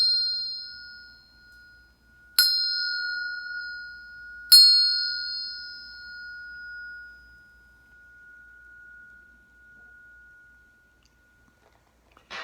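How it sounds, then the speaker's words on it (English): Three clear strikes on a bell, each ringing out and slowly decaying into silence, spaced a couple of seconds apart with no talking over them. "I'm going to hit the bell 3 more times while you think about the King of Cups."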